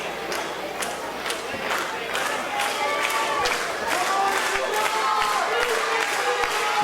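Crowd at a wrestling event cheering and clapping, a steady roar of many voices with scattered claps and shouts, rising slightly in the second half.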